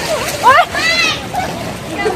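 Water splashed by people bathing in the Ganga river, a few sloshing splashes close by mixed with voices and chatter.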